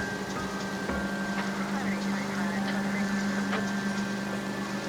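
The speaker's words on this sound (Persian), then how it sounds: "حاجی هوا بارونی هم هست" Steady rain falls in the game L.A. Noire, a soft continuous patter of drops on surfaces at moderate distance, with a low hum beneath and faint speech mixed in.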